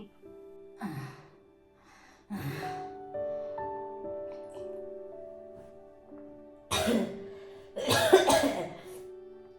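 A person coughs in several harsh, throaty bursts separated by pauses, the last ones loudest and most forceful, with faint breathy sounds in between.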